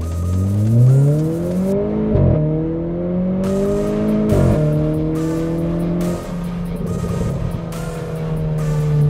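A Renault Clio 4 RS launches hard from a standstill, the engine revving up through several gear changes with brief dips between shifts, loud and close from inside the car, with a tire chirp at the start.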